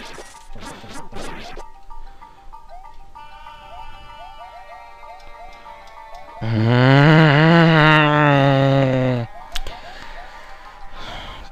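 A horse in the Super Mario Origins game gives a loud, wavering whinny lasting a few seconds, set against light ticking game sounds before and after.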